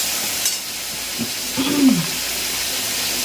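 Garlic dropped into hot oil in a home kitchen pan sizzles with a steady, bright hiss, broken by a few brief stirring scrapes near the middle.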